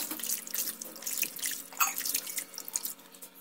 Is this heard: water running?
yes